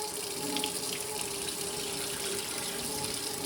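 Tap water runs steadily into a bowl while rice is rinsed in a kitchen, a continuous close splashing hiss with no talking.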